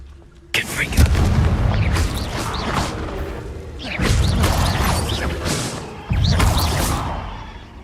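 A Confringo blasting spell effect from a game produces three loud, booming explosion bursts with rumbling tails, spaced a few seconds apart.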